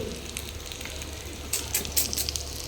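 Rava-coated fish fries in a pan with a soft, continuous sizzle, and a few sharper crackling spurts come near the end. No voices are heard.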